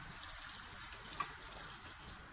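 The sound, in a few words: water being poured into pot of rice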